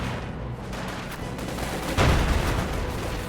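Gunfire in a Panzer tank battle video game, a dense rattle of shots over continuous battle noise with a louder burst midway.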